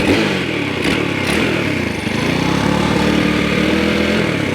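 A Dax motorcycle's small engine started after a run of repeated emergency stops, running loud and steady close by with a continuous rough idle and clattering mechanical noise throughout.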